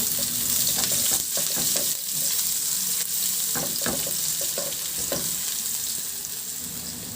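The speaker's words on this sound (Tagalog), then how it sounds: "Binawasan ko na rin yung mantika sa kawali at igisa ko na yung bawang." Garlic sautéing in reduced oil in a pan, a steady close sizzle with a few scattered scraping stirs and clicks, no voices.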